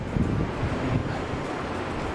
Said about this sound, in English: Got the wind picking up.